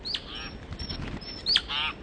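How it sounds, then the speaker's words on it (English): Small birds dart past close by while chasing each other, giving two sharp high chirps with a soft whoosh of wings between them in a brief outdoor moment. "Whoa, them birds about took my head off."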